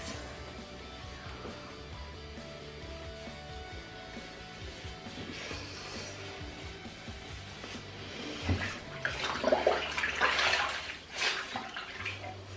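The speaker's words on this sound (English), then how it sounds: "Making sure to keep getting fresh water onto my cloth." Tap water runs over a washcloth being rinsed in a sink during a skincare routine, a steady close splashing stream that swells louder and rougher near the end as the cloth is worked under it.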